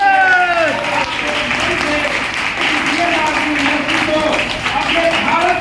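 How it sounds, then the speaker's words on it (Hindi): A crowd at a political rally applauds loudly for a senior leader. Dense clapping runs throughout, and a voice speaks over it on a rising, sing-song line. "जोरदार तालियां"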